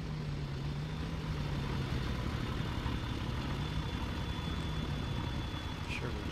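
Service truck, an old C500 workhorse in Farming Simulator 19, idles with a steady low engine drone that holds constant throughout.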